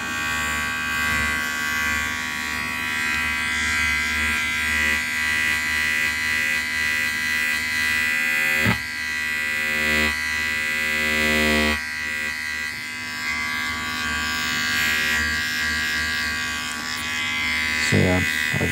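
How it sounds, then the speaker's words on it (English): Electric shaver buzzing steadily and close up across a scalp in a fast, aggressive ASMR scratching session, a constant droning hum with brief pauses, while a soft voice talks throughout. "I hope you don't mind if I just shave, because yeah, there's parts of your scalp I need to get to."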